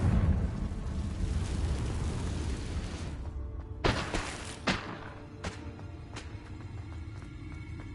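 A Confringo fire-blast spell exploding in Hogwarts Legacy, a heavy rumbling boom at the start that fades, followed by a couple of sharper impact cracks and lingering debris.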